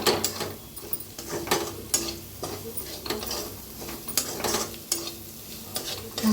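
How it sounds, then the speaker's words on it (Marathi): Coriander powder dry-roasting in a pan, with repeated scraping stir strokes in a quick, uneven rhythm and a faint sizzle underneath, close and moderately loud. "धना पावडर, भाजून घेऊया"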